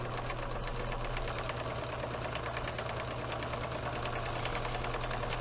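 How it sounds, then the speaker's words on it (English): A sewing machine back stitching a folded fabric pouch, running in a fast steady mechanical rattle with a constant motor hum, close and unbroken throughout. "I'm back stitching, by the way, as well, just to fasten it."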